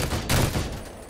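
Rapid gunfire rattles in Halo 5: Guardians multiplayer, a short burst of overlapping shots with a louder crack partway through.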